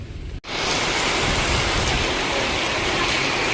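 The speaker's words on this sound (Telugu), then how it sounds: "వాన అయితే స్టార్ట్ అయిపోయింది." Heavy rain pours at a railway station as a Tirupati–Villupuram intercity express arrives, a loud continuous roaring hiss that swells in suddenly after a short quieter moment.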